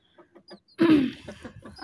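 Chicks, one farm-bred broiler chick and one local desi chick, sick with cold: a few soft, spaced clucks and peeps, then a louder, closer call followed by fainter chattering.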